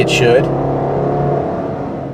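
A Subaru Impreza pulls away in its simulated first gear, the engine a steady droning rise heard from inside the cabin, with someone talking over it at the start.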